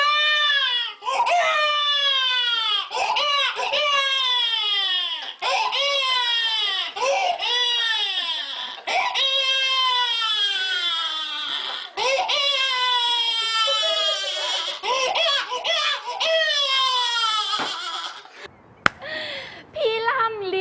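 A man imitates a crying baby with repeated rising-and-falling wails in loud, close bursts separated by short gasping pauses, carrying on for about eighteen seconds before stopping abruptly.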